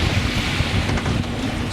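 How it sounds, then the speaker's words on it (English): Steady wind buffets a small sailboat running under just the jib off the Scottish isles near Oronsay, with a continuous rush of wind noise and water washing along the hull, no voices. "It's quite windy."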